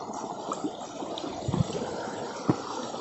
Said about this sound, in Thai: ลำธารเล็กๆนะฮะทุกคน